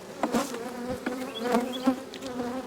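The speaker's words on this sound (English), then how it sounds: "A lot of bees." A dense swarm of about 50,000 bees hums steadily up close at an open hive, individual buzzes rising and passing over the constant droning mass.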